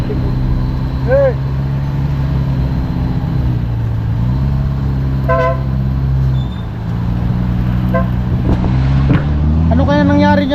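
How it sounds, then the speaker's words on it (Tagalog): Road traffic rumbles steadily throughout, with vehicles including a truck passing close by, a continuous low engine drone and occasional higher whines and rattles, while a few voices speak briefly over it. "Traffic. Hey."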